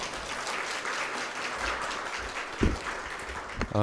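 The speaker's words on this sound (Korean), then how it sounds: "김대엽 회장님을 뜨거운 환영의 박수로 맞이해 주시기 바랍니다" An audience at a hospital pharmacists' conference breaks into sustained applause to welcome a speaker, a dense, even wash of many hands clapping throughout, with a brief knock near the end.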